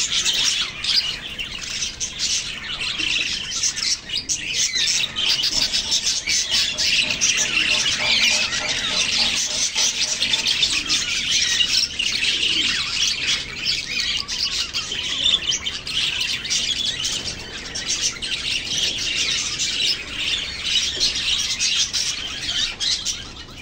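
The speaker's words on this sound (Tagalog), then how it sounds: "Ayan yung mga alaga kong ibon dito sa aming rooftop." Pet birds kept on a home rooftop squawk and chirp continuously, a dense, busy chorus of overlapping calls at moderate loudness with no pauses.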